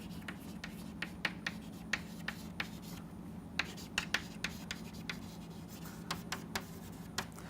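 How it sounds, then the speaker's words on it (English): A pen scratches across a writing surface as a name is handwritten during a fluid flow modelling lecture, a close, quiet series of short strokes over a low room hum. "I will just write the name for you here."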